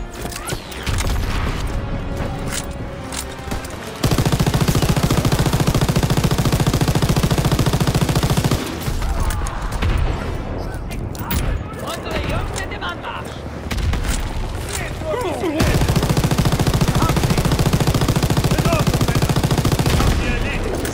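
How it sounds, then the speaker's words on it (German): Machine gun fire in the Call of Duty WWII D-Day level, with loud sustained bursts and surrounding battle noise and explosions, continuing almost without a break. "Nehmen wir hier diese MG mit. Kann ja nicht schaden. Und dann ballern wir mal hier so ein bisschen rum."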